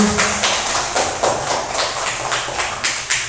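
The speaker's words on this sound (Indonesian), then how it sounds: "Tepuk tangan untuk Sirajul" Third-grade schoolchildren in an elementary school classroom clap together in a steady, evenly spaced rhythm, each clap a crisp burst close by, continuing for several seconds.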